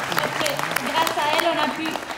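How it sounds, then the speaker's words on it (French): Audience applause at a school slam poetry event, a short stretch of moderate clapping heard under a voice still talking. "Un tonnerre d'applaudissements."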